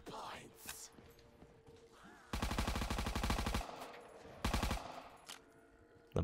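Bursts of rapid automatic fire from a Thompson submachine gun in Black Ops 3 Zombies, two long loud sustained volleys with a dense rattling rhythm, separated by quieter game sounds and a few short clicks, close and dominant.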